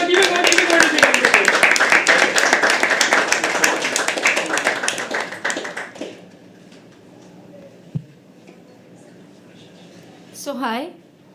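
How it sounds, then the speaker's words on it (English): Audience at a live poetry open mic gives dense, loud applause with rapid clapping for about six seconds before it fades out to quiet room sounds, a brief knock, and a short voice near the end. "Keep the applause going for our next act of the evening"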